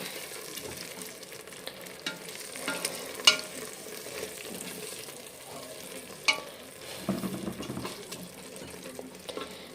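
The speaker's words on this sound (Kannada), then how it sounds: "ಎಣ್ಣೆ ಹಾಕ್ಕೊಂಡು ಈರುಳ್ಳಿ ಉದ್ದುದ್ದು ಕಟ್ ಮಾಡಿರೋದು ಹಾಕ್ಕೊಂಡು ಚೆನ್ನಾಗಿ ಫ್ರೈ ಮಾಡಿ ಟೊಮೊಟೊ ಹಾಕ್ಕೊಂಡು" Sliced onions and tomatoes fry in oil in a pan with salt, turmeric and chili powder, giving a steady close sizzle with scattered stirring scrapes and a few sharper clinks, no talking.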